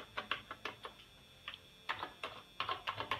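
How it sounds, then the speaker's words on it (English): Someone types on an old Olympia keyboard in an abandoned hospital, giving irregular clusters of faint clacking keystrokes with short pauses between bursts. "Look at this keyboard. Olympia."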